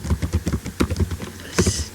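Quick, uneven keystrokes clatter on a computer keyboard as an SQL command is typed, close up, with a brief pause before a final few key presses.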